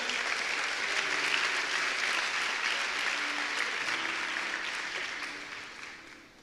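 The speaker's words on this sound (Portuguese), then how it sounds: "Você pode aplaudir." A church congregation applauds in a dense, sustained wash of clapping that stays strong for several seconds and then fades toward the end, with faint voices beneath.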